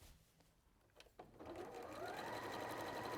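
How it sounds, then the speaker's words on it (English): A sewing machine top stitches down the folded, pressed edge of a pocket, starting after a few soft clicks and then running in a steady, close, whirring hum that continues to the end. "I'm going to just top stitch down that edge to hold it"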